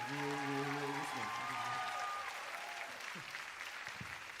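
Audience applause rises early and then thins to scattered clapping, with a voice talking over the first seconds, moderately distant.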